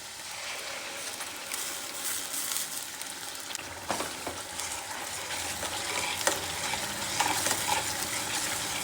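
Onion and ground masala sautéing in oil for a restaurant-style dal-onion dish, a dense, steady crackling sizzle close by with occasional light clinks and scrapes of a spoon against the pan.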